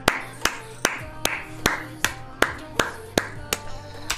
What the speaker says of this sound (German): Einmal Applaus, Leute.